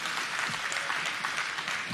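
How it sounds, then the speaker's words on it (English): Audience applause at an outdoor fire knife event in Hawai'i, a soft, steady wash of clapping that sounds fairly distant and continuous throughout. "Yeah, everybody wants to have applause for Uncle Pule"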